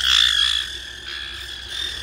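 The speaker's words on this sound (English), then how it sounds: "A lot of growling." A pet bird makes a low, rasping growl, a short croaking burst followed by quieter, fainter rasps, heard up close indoors with no talking.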